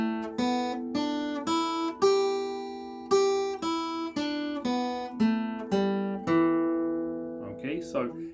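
Single guitar notes descend a scale one at a time, each plucked cleanly and ringing briefly before the next, about a dozen evenly spaced notes played close and alone, ending with a softer, muted flourish.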